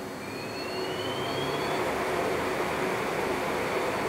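A lathe chuck spins at 3,000 RPM during a clamping-force gauge test, giving a loud, steady whirring roar with a faint rising whine and no pauses.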